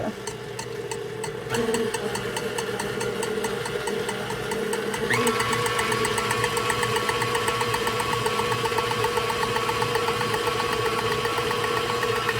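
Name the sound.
electric mixer whipping cream at medium speed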